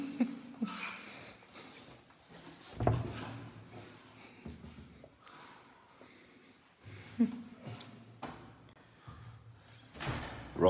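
An indoor door is opened and closed at night in a home, giving several distinct knocks and thumps spread across the span. Quieter handling noises and faint breathing sound between them.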